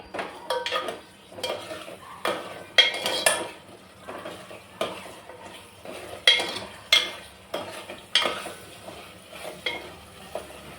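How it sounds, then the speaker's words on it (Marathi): Drumsticks being stirred into masala in a pan for a spicy drumstick amti, with rhythmic scraping and clinking of a spoon against metal over a light sizzle, close and steady. "शेंगा हे छान मिक्स करून घेऊया मसाल्यामध्ये."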